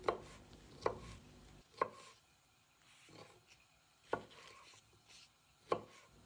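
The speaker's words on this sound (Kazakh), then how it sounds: "Бір штук қызыл болгар бұрышы, бұны да турап аламыз осылайша" A knife chops a red bell pepper on a board, giving six separate sharp, close thuds at uneven intervals with quiet gaps between them and no speech.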